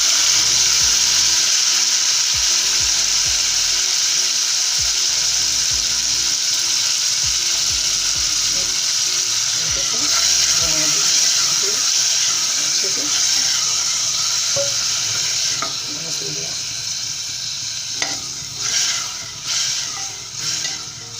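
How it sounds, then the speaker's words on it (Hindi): Tomatoes sizzle and fry in hot oil, a loud continuous crackling hiss with intermittent scraping and stirring clatter from a utensil in the pan, settling toward the end. "अब इसमें टमाटर ऐड करते हैं।"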